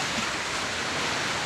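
Wind-driven sea waves washing onto Binawang Beach in Pantukan, Davao de Oro, with a rough swell under the northeast monsoon; a steady, dense broadband roar with no breaks, close and fairly loud.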